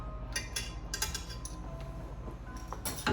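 A spoon clinks and scrapes against a pan while heavy cream is stirred into a Marsala sauce, giving light, irregular metallic taps over a low steady hum.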